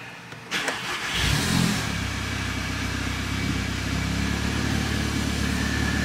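Volkswagen MK7 GTI engine cranks and starts after a brief fuel-pump prime, catching with a short rev before settling into a steady idle, heard close and loud.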